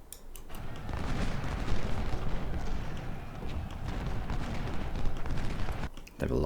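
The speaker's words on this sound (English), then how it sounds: "They have a lot of cannon." Sustained rumbling barrage of massed cannon and musket fire from an Ultimate General Civil War battle at Brock Road, dense and continuous for several seconds with sharp cracks near the start and end.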